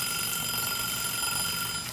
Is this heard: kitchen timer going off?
yes